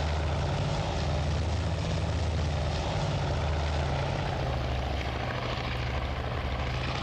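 A steady, loud droning engine roar from an aircraft circling in to land in the naval combat game Task Force Admiral, constant throughout with no voices.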